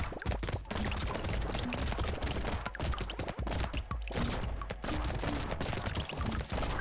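SMG fire in Brotato, a steady stream of quick small gunshots rattling continuously under busy game effects, moderately loud throughout with no voices.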